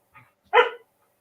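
A dog in a home kitchen gives a single short, fairly loud bark, preceded by a faint yip, with quiet around it.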